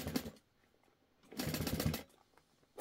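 Sewing machine stitching a tote bag through stabilizer, heard in two short bursts, one brief run near the start and a louder, steadier run of about half a second in the middle, with quiet pauses between.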